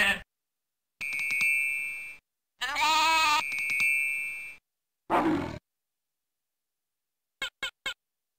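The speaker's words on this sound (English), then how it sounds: "Sheep make such a wonderful noise." Cartoon sheep bleats in the Buzzy the Knowledge Bug farm video game, a few separate synthetic calls with game chimes and tones between them, then three short clicks at the end.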